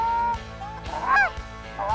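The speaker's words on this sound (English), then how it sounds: "they thought the decoys were like actually real geese" Canada geese honk repeatedly in close, loud calls at a freshly combined pea field in Saskatchewan, several rising honks overlapping over about two seconds with no talk.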